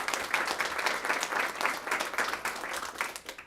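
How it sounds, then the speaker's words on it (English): An audience at a World Elder Abuse Awareness Day event gives a steady round of applause; dense, continuous clapping at moderate loudness holds evenly throughout, with no speech over it. "Give them a round of applause."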